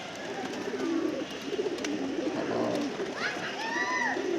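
Pigeons coo and flutter as they leave their opened cage, a steady mix of close cooing and wing noise with faint talk underneath.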